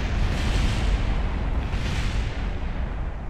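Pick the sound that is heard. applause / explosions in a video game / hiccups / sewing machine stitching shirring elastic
explosions in a video game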